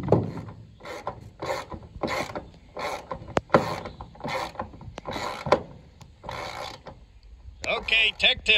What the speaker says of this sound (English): Put the strap on it. Might tighten it down just perfect.